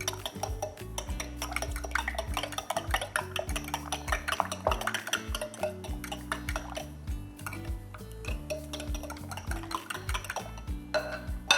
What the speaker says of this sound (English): I'm gonna just whisk this egg and milk